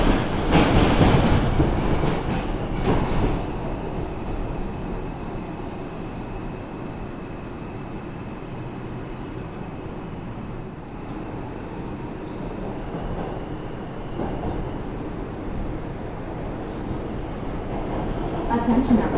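Interior ride on an R142 subway train on the 5 line in New York, with steady rumbling wheel and motor noise, some rattling and clatter, and a louder burst near the start, heard continuously from inside the car.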